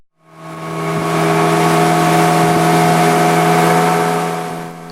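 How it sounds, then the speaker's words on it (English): A boat motor revs steadily on a flooded river tributary in Colombia, a strong, sustained drone that swells in and holds close and loud with no voices. "so we rev up the motor and blow by as much flooded bank as we can"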